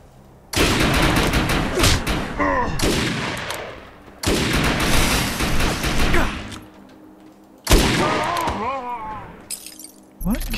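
Gunfire from the Defiance shooter game comes in three long bursts of rapid shots with gaps of quiet between them, loud and close, with brief voices under the shooting.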